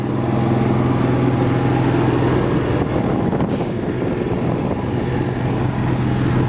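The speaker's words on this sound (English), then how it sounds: "I do have the generator running." Quiet generator running at the front of a 2019 ATC aluminum toy hauler, a steady loud engine drone with a low hum and broadband exhaust hiss, continuous throughout with no voices.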